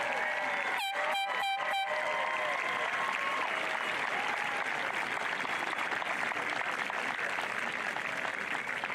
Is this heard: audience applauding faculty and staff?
yes